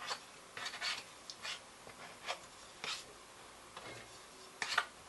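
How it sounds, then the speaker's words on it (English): A scraper rubbing flour off a stand-mixer paddle during bread making, producing a series of short, faint scratchy strokes in an irregular rhythm, close and quiet. "So scrape off the paddle, because there's some flour on there."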